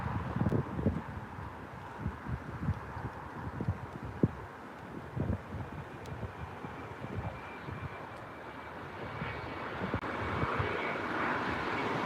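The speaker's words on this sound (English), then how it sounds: "we've got Bombardier Global coming in, ladies and gentlemen" A Bombardier Global business jet lands at Leeds Bradford airport. It gives a sustained, fairly distant engine roar with gusty wind noise, and the roar swells slightly toward the end.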